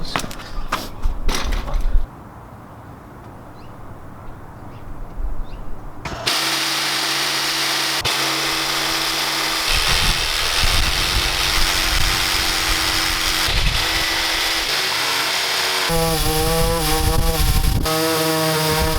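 A power tool cuts through a Lexus GX470 bumper in a loud, harsh continuous grinding whine that starts a few seconds in and runs steadily, close by, after some quieter handling noises.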